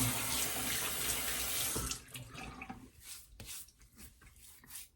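Water pours steadily from a bathroom tap for about two seconds while a face is wet before shaving, then breaks into softer, irregular splashes and dripping as hands scoop it up close by.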